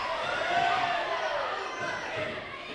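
Crowd at a women's boxing match roars and cheers in a sustained, dense wash of voices, steady and loud throughout.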